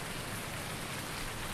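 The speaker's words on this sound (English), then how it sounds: "It must be some kind of magic rain." Rain in Farming Simulator 19 falls in an even, constant hiss, soft and alone without voices.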